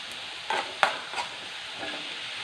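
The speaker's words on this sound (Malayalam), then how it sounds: "ഇതിലോട്ട് ഇനിയെ ക്യാപ്സിക ഇടുവാണേ" Capsicum tipped into a hot frying pan of softened onions, giving a steady close sizzle with a couple of sharp clatters as the pieces land and are stirred.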